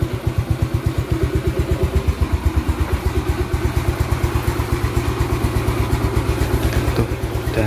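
A 2009 Yamaha Mio Smile scooter idling after restoration and tensioner work, a rapid, even putter with light mechanical clatter, loud and close, continuing steadily throughout.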